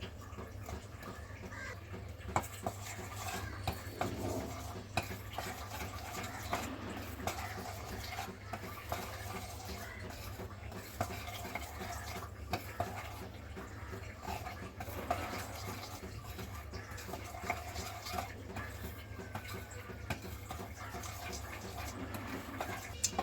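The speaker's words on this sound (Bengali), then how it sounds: "এখন আমি চকলেটটা গলিয়ে নিচ্ছি।" Chocolate being stirred as it melts in a bowl over hot water, giving a soft, continuous scraping and clinking of utensil against the bowl, faint and steady throughout with no talking.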